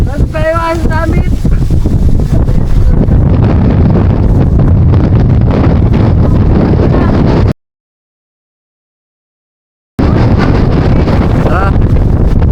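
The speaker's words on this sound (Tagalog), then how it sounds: "Sarap ng hangin" Strong wind gusts buffet the microphone on a mountain in Zambales, a loud continuous roar that cuts out briefly midway and then resumes, with a voice faintly heard early on.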